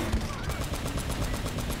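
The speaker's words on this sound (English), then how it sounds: "Oh, it's got a machine gun and grenades?" Rapid machine gun fire in the Uncharted video game, a dense, steady stream of loud automatic shots rattling without pause, layered over constant battle noise.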